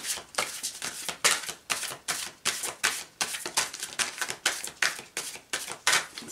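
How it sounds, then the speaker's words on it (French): A Dixit card is drawn from the deck, with a run of quick rhythmic taps and flicks like cards being handled and shuffled, close and crisp, repeating steadily with no talk. "je vais encore tirer une carte de Dixit"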